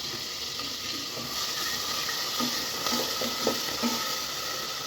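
Onion paste fries in oil in a pan for duck curry, a steady close sizzle with faint scraping and light stirring clicks underneath.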